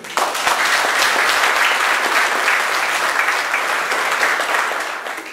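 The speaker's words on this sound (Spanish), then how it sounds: "La recibimos con un fuerte aplauso." Warm crowd applause welcoming a speaker at a senior citizens' registration ceremony, steady clapping that holds for about five seconds before fading.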